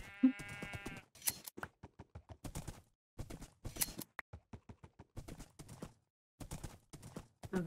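Sheep bleat in a video game, a short quavering harmonic cry at the start, followed by dense clicking and tapping game noises and a few more faint bleats.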